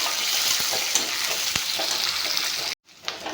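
Onion and garlic fry in a pan for a mutton curry, a loud steady sizzling hiss with occasional stirring scrapes, cutting out abruptly near the end before faint frying resumes, no talking.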